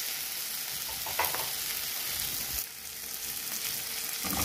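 Masala frying and being stirred in a pan for chicken Manchurian, a steady close sizzle with scattered scraping stirs throughout, no voices.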